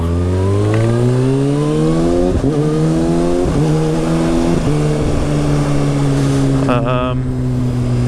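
A 2019 Kawasaki ZX6R motorcycle at full power with traction control on level 1 screams up through the gears, its loud engine pitch rising and dropping sharply at each quick upshift, with steady wind roar throughout.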